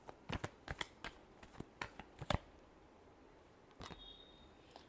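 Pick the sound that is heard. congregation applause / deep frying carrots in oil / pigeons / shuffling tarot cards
shuffling tarot cards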